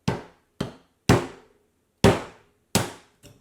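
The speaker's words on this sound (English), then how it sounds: "then you can with the hammer hit on it and it will come loose" A hammer strikes the nickel strip on a Bosch Powerpack 18650 battery frame six times, sharp metallic knocks with short ringing decay at irregular intervals, loud and close, the last blow lighter.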